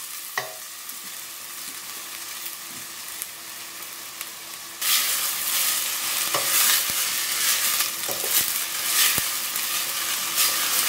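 Onion frying in hot oil for Goan pork pasta, quiet stirring at first, then a loud steady sizzle bursts up as the onion hits the pan, with occasional scraping knocks.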